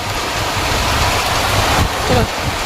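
Continuous hiss of heavy rain close by, steady throughout, with a brief louder swell near the end.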